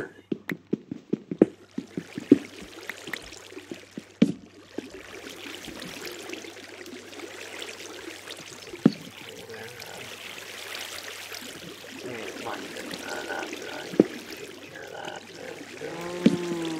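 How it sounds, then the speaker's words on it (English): Water flows and trickles inside a Minecraft cave, a continuous pouring, bubbling stream beneath scattered sharp clicks and taps from game actions, with no speech over it. "water."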